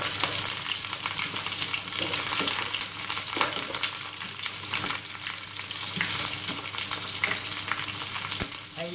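Lemongrass salmon frying in a pan, a loud continuous close sizzle with light stirring and turning sounds.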